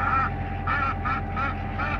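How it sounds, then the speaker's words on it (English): Geese on a pasture poultry farm honk loudly and close by in five repeated calls, over a constant low hum in the background. "There, the geese."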